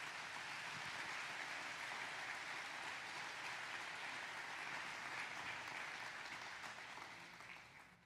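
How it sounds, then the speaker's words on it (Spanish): A church congregation applauding during a Sunday service: continuous dense clapping from a large crowd, steady and even for several seconds before tapering off near the end, with no talk over it. "Denle un aplauso a nuestro Dios."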